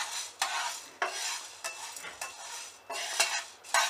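Whole spices for Malvani masala are dry-roasted in a pan and stirred with a utensil, giving repeated dry scraping and rattling sweeps, close and fairly loud, in irregular bursts with short pauses between.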